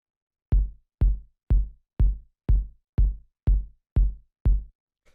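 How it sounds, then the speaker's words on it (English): Nine clean, punchy electronic kick drum hits in an even, steady pulse, each a deep thump that decays quickly, with silence around them. "The first sound we have here is the kick,"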